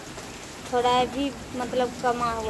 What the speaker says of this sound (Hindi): इतना बारिश हो गया है